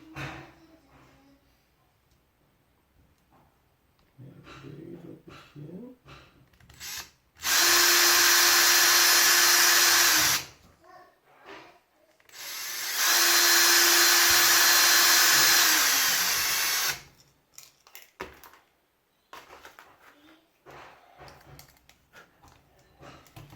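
A power drill whirs loudly in two sustained bursts of about three and four seconds, with quieter handling clatter and taps between and after.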